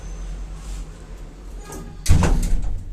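An elevator door with a faulty lock slides shut and lands with a loud closing thud and latch clatter near the end, following a quieter stretch of low machinery hum.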